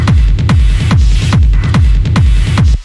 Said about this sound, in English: This is just some effects samples, and I made this little, like, rhythmic pattern.